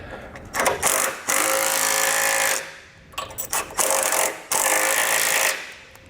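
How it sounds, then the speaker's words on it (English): Two bolts on a Demco base plate for a 2015 GMC Sierra 2500 are run down with a 19mm socket, giving bursts of loud, rapid rattling from a power tool separated by short pauses. "So now I'm going to take a 19mm socket. I'm going to snug down these 2 bolts."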